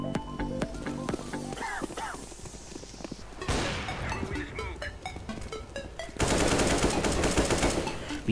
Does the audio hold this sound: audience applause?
no